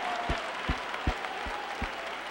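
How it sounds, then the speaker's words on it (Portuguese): Men in a church congregation clap for the women, with a few sharp, evenly spaced loud claps standing out over a softer background of crowd applause. "I want all the men to give the women a big hand clap."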